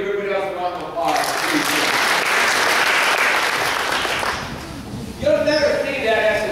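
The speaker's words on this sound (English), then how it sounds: "Everybody, give everybody else a round of applause." Audience applause breaks out and fills most of the stretch, a dense steady roar of clapping in a hall, with a speaking voice heard briefly before it swells and again as it fades.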